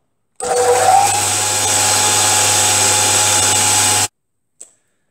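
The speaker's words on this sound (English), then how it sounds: "we're going to drill a hole." A power drill whines steadily for several seconds at close range while drilling a hole in metal, then stops abruptly, followed by a brief faint clink.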